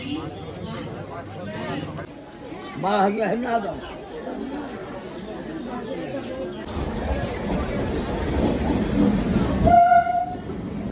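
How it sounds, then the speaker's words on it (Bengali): A busy railway station in Bengal carries constant crowd chatter, rolling train clatter and a short horn-like tone near the end, with nearby voices talking throughout. "মাইলদা স্টেশনে পৌঁছে গেছি।"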